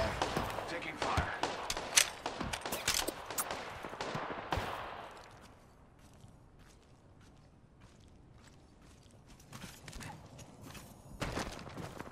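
Bursts of video game gunfire crackle during a battle royale firefight, dense and rapid for the first few seconds, then a quieter lull before more shots return near the end.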